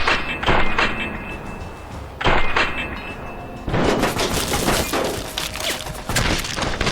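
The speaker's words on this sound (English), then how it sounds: "what are you shooting at me with? And why does everybody in the world have LMGs?" Light machine gun fire in a video game comes as dense, loud bursts. Short volleys stop and start, then a sustained stream of shots runs to the end, with thuds and impacts in between.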